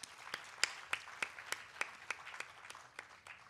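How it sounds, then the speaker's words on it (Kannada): Sparse, faint applause from an audience at an instrumental music ensemble anniversary event, a handful of distinct claps spaced unevenly over a soft room background, fairly distant and quiet. "ಅದಕ್ಕೆ ನಿಜವಾಗಲೂ ಒಂದು ಚಪ್ಪಾಳೆ ಕೊಡಲೇಬೇಕು"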